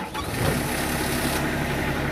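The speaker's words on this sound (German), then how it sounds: "mit Hilfe des Zündschlüssels starten wir dann den Motor." The diesel engine of a Mobilift T-300 telescopic aerial work platform cranks with the ignition key and catches, settling into a loud, steady rumbling idle.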